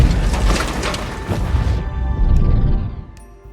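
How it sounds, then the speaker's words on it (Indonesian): Gunpowder bomb arrows exploding in a battle scene near a great wall, a dense run of loud crashing booms with heavy low rumble and debris, easing off into fading echoes. "Panah bom itu pun ditembakkan dan ledakan terjadi di mana-mana."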